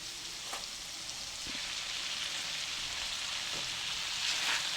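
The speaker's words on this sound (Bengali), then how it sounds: "আলুটা আমি একটু ভালো করে শুটকির সাথে কষিয়ে নিচ্ছি।" Thick-cut potatoes sautéing with dried fish in a pan give a steady, soft sizzle, with a few light clinks of stirring mixed in and no talking.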